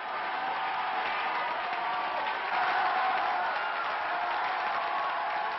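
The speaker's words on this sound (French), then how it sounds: "Il est battu, mais dehors, c'est une ovation qui l'attend." Steady cheering and applause from a crowd greeting Lionel Jospin outside his campaign headquarters in May 1995, a sustained wash of clapping and voices heard from a distance, somewhat muffled and thin.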